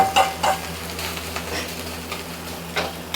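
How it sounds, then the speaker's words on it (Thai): Rice coated in egg being stir-fried in an oiled pan, a steady sizzle broken by repeated scraping strokes of a spatula against the pan, close and continuous, with no voices. "ผัดไปเรื่อยๆจนมันเริ่มแห้ง"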